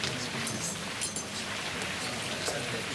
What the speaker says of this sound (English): Just look at that rain.